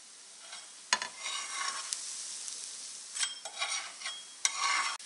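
An egg paratha fries on a hot tawa after being turned to its other side, giving a steady close sizzle with crackling bursts that rise and fall.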